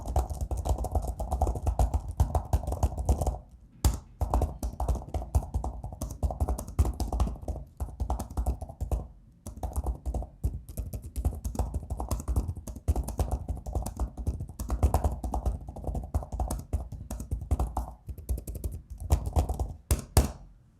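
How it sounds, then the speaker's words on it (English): Continuous rapid tapping of a Microsoft Surface Go Signature Type Cover laptop keyboard, close and crisp, with a couple of brief pauses between runs of keystrokes. "give you that little sound test now"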